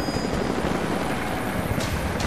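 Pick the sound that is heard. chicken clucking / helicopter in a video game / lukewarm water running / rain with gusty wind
helicopter in a video game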